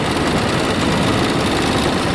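A lake craft's boat engine runs in a steady, loud, close rumble with an even broadband drone and no breaks or talk.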